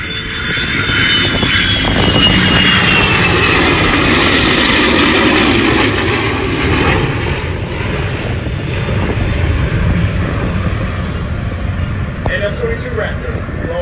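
P-51 Mustangs flying over in a heritage flight formation, a loud sustained propeller-engine roar that swells and fades gradually, with people talking over it.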